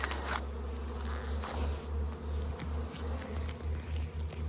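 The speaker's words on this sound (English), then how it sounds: "You can see how many bees are out here." Honey bees buzzing steadily around beehives outdoors during a honey harvest, a faint continuous drone with a low pulsing hum and no voices.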